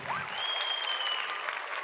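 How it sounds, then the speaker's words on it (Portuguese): A church congregation applauds at a service, steady clapping that fills the room at a moderate level with a faint whistle on top, and no talk over it. "Dá uma salva de palmas para esse povo."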